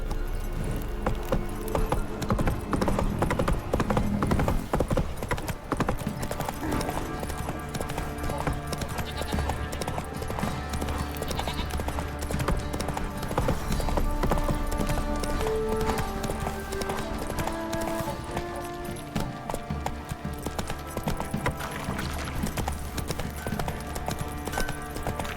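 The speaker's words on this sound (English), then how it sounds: "Time to water the horses." Horse hooves clip-clopping in The Witcher 3 on Death March difficulty, a steady walking rhythm of close hoofbeats with occasional snorts and jangling tack, running continuously over faint ambient game sound.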